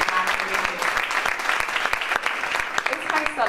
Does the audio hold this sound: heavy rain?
no